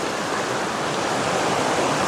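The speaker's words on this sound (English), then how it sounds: "It's actually a good sized creek," A good-sized creek flows in the wild in New Zealand, a steady, full rushing of water heard close and alone.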